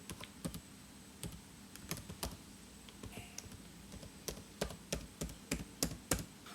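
Fingers type a username and password on a computer keyboard, giving irregular bursts of close, crisp key taps with short pauses between, and no talking.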